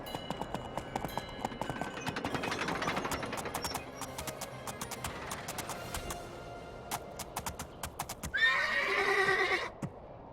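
In the video game Two Worlds, a horse's hooves clip-clop in a quick, steady rhythm. A loud, close neigh follows near the end, with sharp game sound effects scattered throughout.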